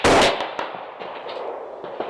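A loud, sharp rifle shot at a 500-yard steel target range opens with a blast, followed by a decaying echo and a few fainter distant reports and clanks from other shooters.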